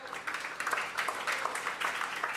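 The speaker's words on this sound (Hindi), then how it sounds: "तालियां बजाइए सब इनके लिए, हरि वो। पीछे वालों ताली बजाओ।" An audience in a lecture hall claps in a brief, moderate burst of applause with slightly uneven rhythm and no speech over it.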